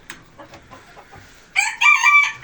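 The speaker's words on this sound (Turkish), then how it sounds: "babamın kendine köyden getirdiği pilavlık olacak horoz var" A village rooster kept in a backyard poultry pen crows loudly and close by, a single strident call that breaks out after a second or so of quiet, soft clucking and faint background noise.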